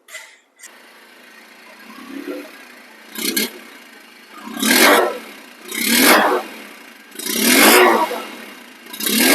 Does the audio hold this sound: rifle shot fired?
no